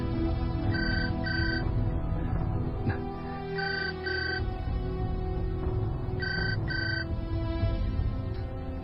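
A telephone rings in a Uyghur film scene, with short paired electronic trills repeating about three times over a steady low background hum, fairly loud and clear.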